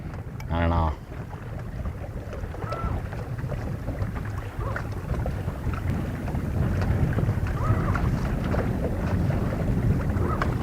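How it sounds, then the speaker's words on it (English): Wind on a lake buffets the microphone with a constant low rumble while fishing for walleye from a boat, a brief burst of voice near the start over the steady roar. "All of a sudden there's like wind"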